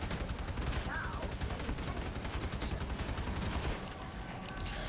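Rapid automatic gunfire from a weapon in the co-op shooter Warhammer 40,000: Darktide rattles in a continuous stream for around four seconds, then eases off, fairly quiet overall.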